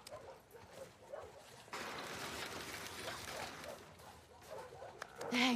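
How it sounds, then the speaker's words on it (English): A dog in The Last of Us Part II whimpers and yips excitedly close by, with short whines and panting mixed in while a person talks to it over a steady background hiss. "Hey, you crazy dog."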